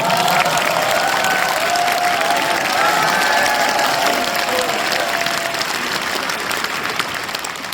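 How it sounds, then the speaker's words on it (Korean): An audience at a political talk show event gives sustained, loud applause with scattered cheers, a thick steady clapping wash that eases slightly near the end. "박수 한번 주십시오"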